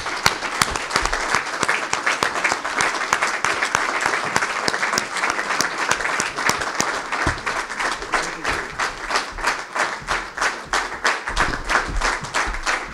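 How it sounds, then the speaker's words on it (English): Sustained standing ovation for the departing Pakistani High Commissioner at a farewell dinner, dense hand clapping with a steady rhythmic pulse that carries on loudly for the whole stretch. "we owe him a standing ovation when he comes to the stage"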